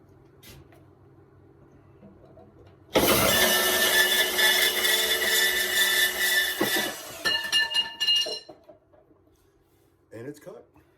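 A power tool cuts through a piece of wood hanging off the edge of a workbench, a loud abrupt burst of whining, rasping cutting that lasts several seconds, sputters and stops, then a brief clatter follows.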